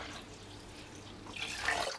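Water pours into a pot of magiritsa, the Greek Easter soup made here with half broth and half water, a soft steady stream that swells louder toward the end of the pour.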